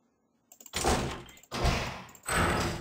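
Door sound effect from the RPG Maker VX Ace video game, played three times in a row: a short click followed by three separate heavy sliding thuds, each loud and close, with no talking.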